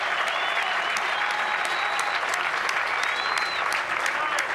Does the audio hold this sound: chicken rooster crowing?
no